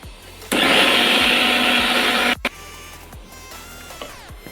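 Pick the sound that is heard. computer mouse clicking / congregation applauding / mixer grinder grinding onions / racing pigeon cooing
mixer grinder grinding onions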